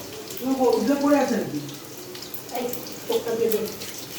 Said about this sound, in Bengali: এখানে মাছগুলো একটু ধুয়ে নেবো